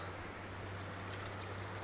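Water pouring steadily into a garden water container for a DIY camper solar shower, a continuous faint rushing with a low hum, no talk.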